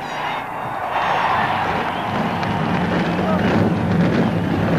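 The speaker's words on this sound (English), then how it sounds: "37 cars roar to life in the Pocono Mountains of Pennsylvania" Thirty-seven NASCAR Winston Cup stock cars fire up together at Pocono in Pennsylvania for the 1991 Champion Spark Plug 500, a dense, continuous roar that swells after the first second and holds steady and loud.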